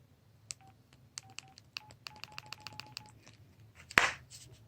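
Keypad tones from a Sanyo Pro 700 cell phone, a run of short beeps pressed in quick uneven succession, close and clear in a quiet room, ending with a louder burst of noise.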